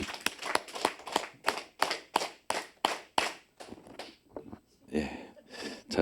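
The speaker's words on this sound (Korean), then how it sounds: "우리 박수를 10번 좀 쳐볼까요? 시작." A church congregation at a Friday evening worship service claps in unison, about ten sharp, evenly spaced claps. Scattered softer claps and a brief murmur of voices follow.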